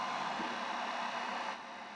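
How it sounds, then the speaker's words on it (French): Hot air blowing steadily from the windscreen demister of a Clio 2 RS Minicup race car, a continuous broadband whoosh that drops slightly in level near the end, with no talking. "Voilà, ça fonctionne, ça envoie de l'air chaud."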